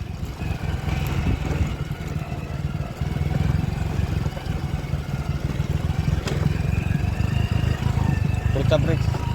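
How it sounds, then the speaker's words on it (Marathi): A motorcycle rides off-road along rutted cart tracks in the Sahyadri hills, its engine a continuous mid-low rumble with clattering and jolts, heard up close alongside some voices. "आजपर्यंत की एकदम ऑफरोडवाली बाईक राईड म्हणजे हीच आहे माझी."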